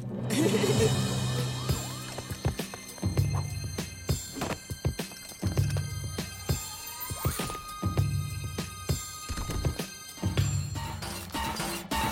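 Sirens wail in a Teenage Mutant Ninja Turtles cartoon, mixed with busy clattering action effects, crashes and rising tones in a dense, loud soundtrack without clear speech.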